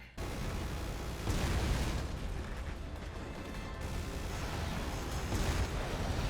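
Loud, continuous rumbling blasts and booming explosions from the video game Resident Evil 6, dense and overlapping, with a sharp onset and recurring surges of roar.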